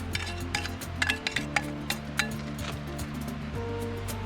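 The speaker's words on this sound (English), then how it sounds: "We'll scrape all the goody bits off" Cooked bits being scraped off a pan beside steak, with repeated metallic scrapes and clinks over a low sizzle, close and moderately quiet.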